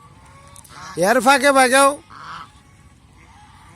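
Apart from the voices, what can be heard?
domestic geese honking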